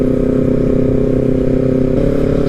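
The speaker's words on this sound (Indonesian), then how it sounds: "Contoh nih, knalpot kayak gitu kan berisik tuh." A motorcycle with a loud aftermarket exhaust runs close by, its deep throbbing note steady and loud, rising slightly near the end, with no talk.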